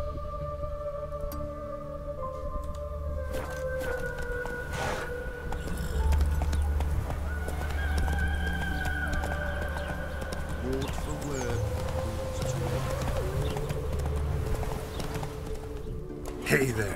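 Roach the horse gallops in The Witcher 3, a steady run of clip-clop hoofbeats under game music, with characters talking over it.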